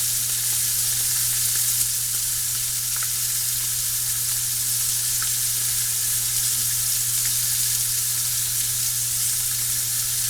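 Halibut fillet frying in a hot pan with a steady, close, even sizzle that holds unbroken throughout, with no talking.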